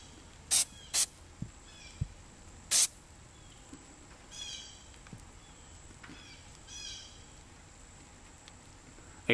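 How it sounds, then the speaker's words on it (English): A few short, sharp hissing bursts of CA glue accelerator aerosol sprayed on arrow fletching, close by, separated by pauses, with faint rustling handling noise in between. "And now I'm gonna lightly spray this."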